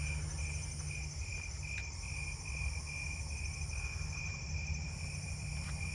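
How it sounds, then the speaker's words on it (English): Crickets and katydids chirp in a dense night chorus, one steady high pulsing trill standing out over a constant insect hum, with no voices. "I'm hearing a Japanese burrowing cricket down here too."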